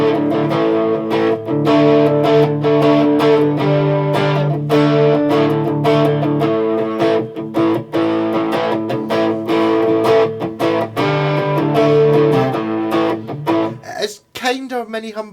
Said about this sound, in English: Wee bit of distortion. I'm enjoying the El Campbell pedal just now.